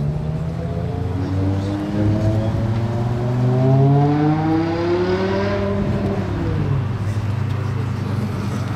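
A Ford Mustang engine revs up and down, its deep harmonic tone rising and falling over a steady rumble, fairly close and loud.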